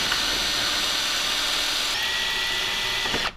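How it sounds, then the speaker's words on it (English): A power drill bores out a bolt hole on a power steering rack conversion fitting a BMW Z3 rack to an E30, giving a loud, steady whine for about three seconds before it stops abruptly. "So I'll bore that hole out a little bit"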